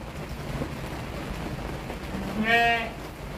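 A two-toothed male goat gives one loud, wavering bleat near the end while being weighed on a scale, over steady outdoor background noise.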